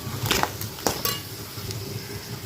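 A spoon stirs crab curry gravy in a cooking pot, giving a few sharp metallic clinks early on followed by softer scraping and sloshing, close and fairly quiet.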